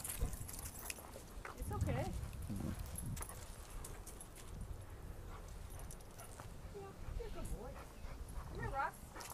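A German shepherd and a pit bull scuffle roughly, with scattered yips, barks and whimpers amid scrabbling movement, while people talk over the commotion.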